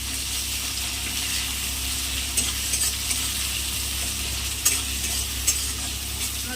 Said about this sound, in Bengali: পেঁয়াজটা একটু হালকা লাল লাল করে ভেজে নেব